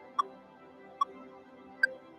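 Three sharp digital metronome clicks in the Prime app, evenly spaced about eight-tenths of a second apart, crisp and close against a quiet background.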